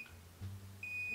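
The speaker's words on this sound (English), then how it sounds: "And wait until it beeps and then you can let go of the button." A WISH hair curler sounds a steady high-pitched electronic beep to signal it is done, starting partway through and holding on loud and clear to the end over a low hum.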